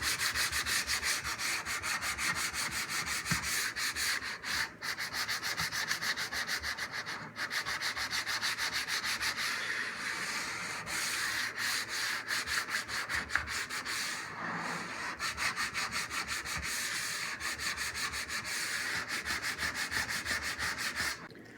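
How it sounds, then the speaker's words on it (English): Continuous hand sanding with 150 grit sandpaper along small cut grooves in a wooden bear skull plaque hanger, a steady close scratchy rubbing with brief pauses at about 5 and 7 seconds, with no talk. "I'm just going to be sanding these little grooves that I cut out along here"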